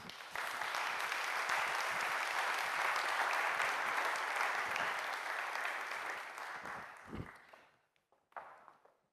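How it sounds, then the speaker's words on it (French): Sustained audience applause at a French conference on digital sovereignty and AI, a thick wash of many hands clapping that holds steady for several seconds, then thins out into a few scattered claps and knocks. "Je vous demande de leur faire un tonnerre d'applaudissements."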